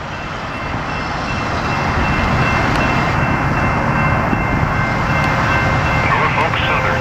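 A Norfolk Southern northbound mixed freight train passing at a road crossing in Columbus, Ohio, a loud, steady rumble and roar that builds and holds, with faint rail squeals on top.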